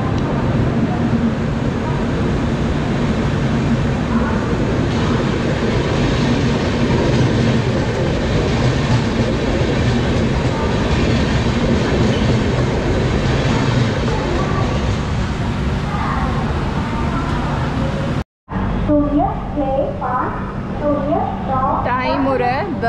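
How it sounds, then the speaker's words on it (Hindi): First AC double-decker train 22625 pulls out of a station, with a loud, continuous rumble and rhythmic clickety-clack of wheels on rails heard close from onboard. A voice speaks over the noise near the end. "ये ट्रेन डिपार्ट हो गई यहाँ से।"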